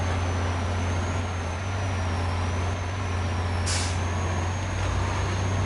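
A Dodge D6500 truck in the SnowRunner video game runs with a low, constant engine drone under a high, wavering turbo whistle, broken by one brief hiss partway through.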